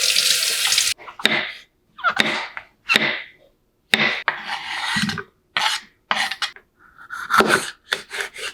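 Mushrooms are washed under a running kitchen tap, with bursts of splashing water and rubbing broken by short silences, close and fairly loud, no speech.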